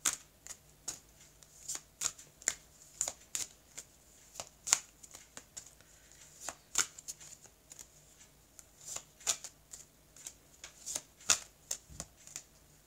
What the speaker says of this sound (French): je vais couper le jeu